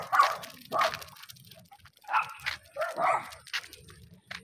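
Dogs yipping, whining and barking close by in short irregular bursts, a few quick high yelps separated by brief quiet gaps.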